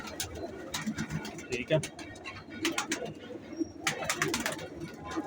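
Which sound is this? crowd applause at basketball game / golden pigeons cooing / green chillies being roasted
golden pigeons cooing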